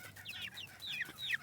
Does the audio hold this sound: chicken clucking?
yes